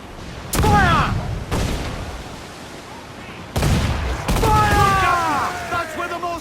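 Ship cannons firing in Assassin's Creed IV naval combat, heavy booming volleys bursting in several separate loud blasts with rumbling tails, mixed with shouted crew voices over the battle.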